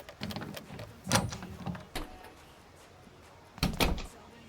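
A door swung shut quickly in the Thief Simulator video game, giving a few sharp thuds and knocks, with one loud bang near the start and another toward the end, no voices.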